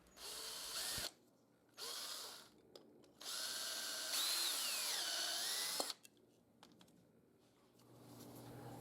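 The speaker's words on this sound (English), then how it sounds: "Once the handle is clamped, we can drill this second hole." A power drill bores a hole through a clamped knife handle slab, working with minimal tools: steady whining bursts with pitch sliding as the bit bites, separated by short pauses, close and fairly loud.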